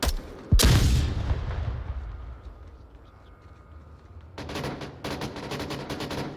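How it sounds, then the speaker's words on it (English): A flashbang grenade detonates with a sharp, loud bang in the VR shooter Onward, followed by a decaying rumble and ringing, then a burst of clattering gunfire toward the end. "Flashbang."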